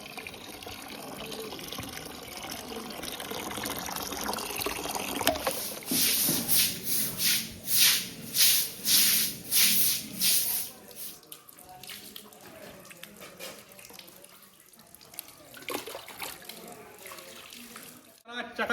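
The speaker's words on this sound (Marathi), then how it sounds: "आता पाणी मारणार" Water is splashed in bursts across a village courtyard to wash it down, with rhythmic loud sloshes in the middle followed by quieter trickling and occasional splashes, with a voice speaking at times.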